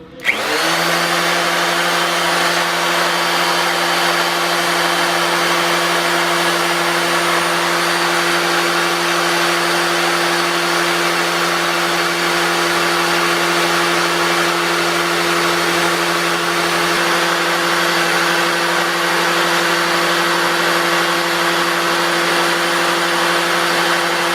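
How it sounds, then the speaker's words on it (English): An electric drill on high speed spins the oil pump of a Chevy 350 engine to prime it, a steady loud whine with constant pitch running alone for the whole stretch. "I'm spinning this even on high. This drill is not spinning that pump as fast as the engine will be when it's idling."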